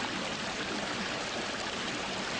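Turbulent water pouring into a sedimentation tank, a steady broadband rushing and splashing that stays even and fairly close throughout, with no voices.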